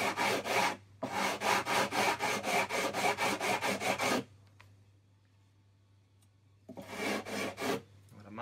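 A file works an acoustic guitar during an overhaul in a rapid, even run of close rasping strokes, then a pause of near-silence, then a second short burst of strokes.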